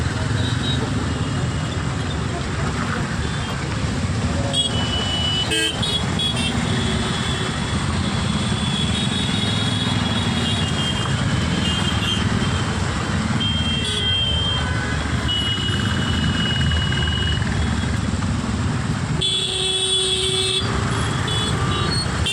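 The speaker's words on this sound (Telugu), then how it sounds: "ఆ వర్షంలో కూడా ఎక్కడవన్నీ అక్కడనే ఆగిపోయినాయి కార్లు ఇట్లా అన్ని," Heavy rain over a traffic jam on a Gachibowli–Kondapur road in Hyderabad, with a steady dense rumble of idling cars and bikes and occasional horn tones rising over the wash.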